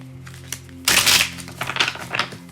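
Crisp riffling clatter of a tarot deck being shuffled at close range, a brief burst followed by softer flicks, under a low steady background hum.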